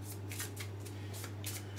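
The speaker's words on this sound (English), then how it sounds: "You know when you shuffle the cards" Playing cards being shuffled for the Arkham Horror board game, a faint, close, continuous riffling with repeated soft bursts over a steady low hum.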